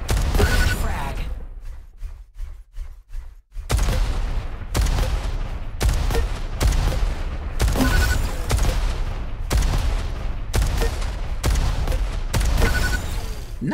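Rocket launcher fire in the arena shooter Diabotical: loud, repeated blasts and explosions land roughly every second in dense bursts, with a brief sparse patch near the start.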